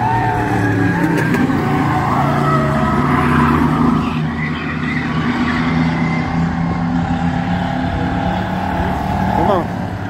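A race car circles a track in steady laps, its engine droning loud and continuous with shifting pitch as it passes, while voices talk excitedly over the motor noise.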